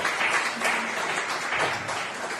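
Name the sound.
congregation applauding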